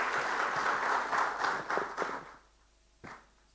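A cybersecurity conference audience applauds the governor, with brisk clapping that thins and fades out, followed by a single late clap, fairly quiet and heard from a distance.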